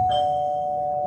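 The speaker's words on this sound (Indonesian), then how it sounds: "Bel pintu berbunyi nyaring," Loud doorbell sound effect used in a theatrical poetry drama staging, one sustained bright ringing tone holding steadily for about a second, close and prominent over a low hall murmur.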